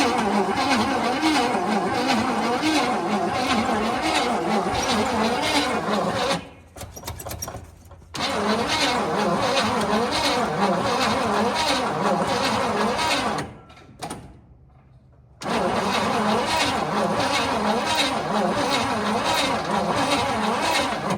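A 1968 Chevrolet Impala that has sat unmoved for over forty years cranks steadily without catching, loud and close, the starter churning in long bursts broken by two short pauses.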